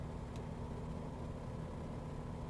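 A small piston aircraft engine in a flight simulator game drones steadily at cruise power, a continuous low rumble with a faint mechanical hum and no change in pitch.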